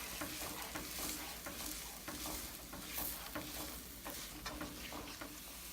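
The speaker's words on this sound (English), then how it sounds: "Now we add 4 eggs into your vegetables and stir them up so they could scramble." A spatula scrapes and stirs eggs through sizzling vegetables in a hot pan for scrambling, a steady frying hiss with repeated soft scraping strokes.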